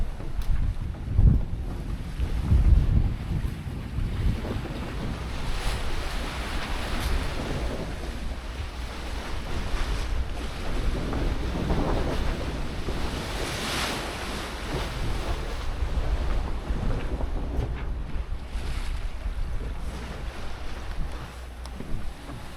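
A Lagoon 51 catamaran under sail at sea off the coast toward Cadiz, with a constant roar of wind buffeting the microphone and waves rushing and splashing along the hulls throughout.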